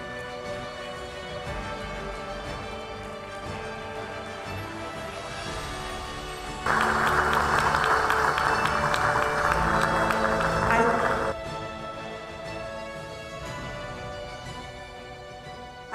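Applause from the audience at a flag handover event swells suddenly in the middle for several seconds over background music, then falls back to the quieter music bed.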